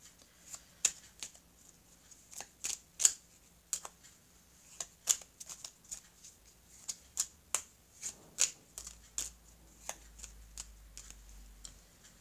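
A small deck of angel oracle cards is shuffled by hand, giving quiet, crisp riffling flicks and taps in irregular bursts, close and soft against a near-silent room.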